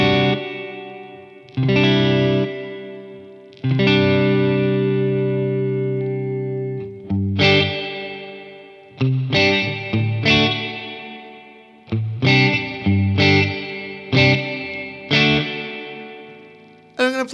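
An electric guitar through an MXR reverb pedal on its plate setting rings out with sustained chords, then a string of short, sharp plucked notes, each leaving a lush decaying tail, loud and alone.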